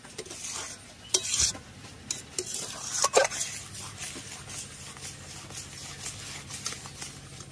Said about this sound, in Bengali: দেখুন কিভাবে তালের পাল্পটা গপ গপ করে ফুটে উঠেছে।